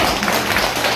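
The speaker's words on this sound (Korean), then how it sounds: "저분 이제 인사하고 가시니까 박수 한번 보내주세요" Crowd applause at a political campaign gathering as a departing guest leaves: a loud, continuous burst of many hands clapping that stays dense and even from start to finish.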